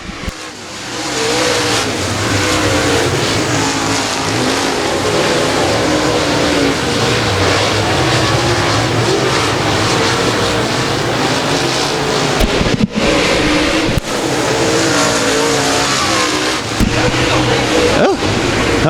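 Race cars at Boothill Speedway, a dirt track event, roaring continuously as a pack circles through lap traffic, loud and sustained with wind buffeting and a commentator talking over the engines.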